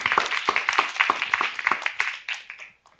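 An audience at an Internet Governance Forum closing plenary applauds with a burst of clapping that swells briefly, then thins out and fades to a few scattered claps.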